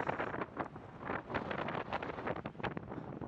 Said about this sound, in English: as I get even a stronger gust of wind.